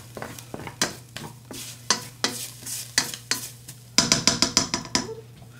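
Crumbles spread out in a skillet with a utensil, giving a run of close scraping and stirring strokes, faster and denser toward the end, with no voices.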